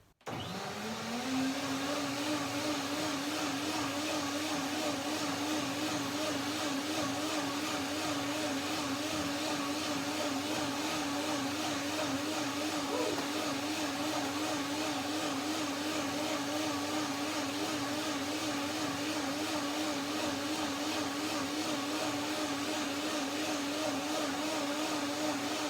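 A blender whirs steadily for the whole stretch, loud and close, churning a cashew, papaya and orange smoothie with a constant motor drone and no talking over it.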